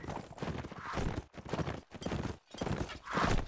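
Horse hooves clip-clopping in a competitive multiplayer video game, a rhythmic run of hoof beats in bursts with short gaps, moderately loud over game action.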